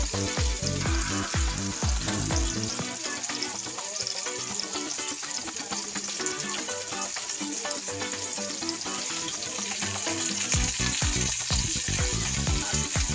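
Tilapia frying in a pan with coconut milk, a loud, dense, continuous sizzle and crackle of hot oil heard up close, steady throughout with faint stirring and no voices.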